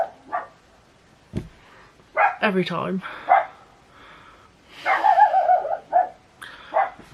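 A dog barks in a run of sharp, loud, close barks and yips, spaced irregularly across the scene, with a person speaking briefly in between.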